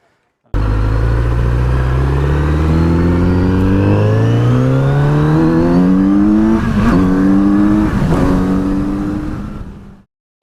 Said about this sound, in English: the tone of the bike is beautiful, but it's not very loud.